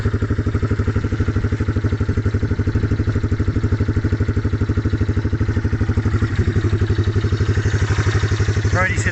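A 1995 Yamaha Timberwolf 4x4 ATV engine runs close by with a loud, steady, rapid chugging putter, holding an even idle-like rhythm throughout.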